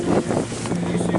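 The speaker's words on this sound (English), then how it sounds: "Partly windy," Wind buffeting a campsite at a bushcraft camp, heard from under a camper's awning, a brief steady rush with gusty rumble on the microphone.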